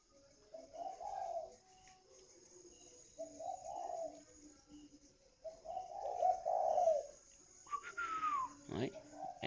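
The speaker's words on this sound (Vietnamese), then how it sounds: "Cho bạn xem con chim hồng này." A caged chim hồng bird repeats soft cooing phrases, four rounded calls spaced a couple of seconds apart, faint and alone, ending with a sharper rising note and a brief knock.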